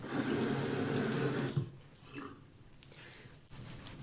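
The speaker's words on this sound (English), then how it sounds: "So I'm going to add water to my hands and emulsify as the second step." Tap water runs onto hands at a bathroom sink, a steady splashing stream for about a second and a half before cutting off, followed by quieter dripping and handling sounds.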